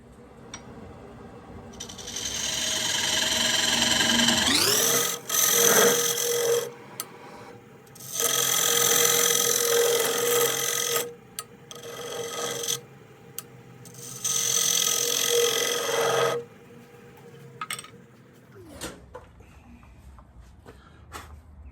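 A wood lathe turns the bottom of a walnut bowl-plate. A low motor hum runs under three long bursts of harsh, scraping tool cutting, with brief taps between them, and nobody talks.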